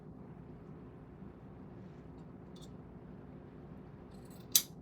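Scissors trim material for a bow on a flocked Easter bunny craft, with a faint snip and then one crisp, close cut over a low, steady room hum.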